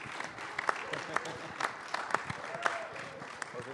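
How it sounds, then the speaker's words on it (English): Scattered applause from an audience at a live jazz event, with irregular claps over a murmuring room, moderately distant and fairly quiet, and voices mixed in. "give yourselves a round of applause for coming out and listening to live jazz tonight"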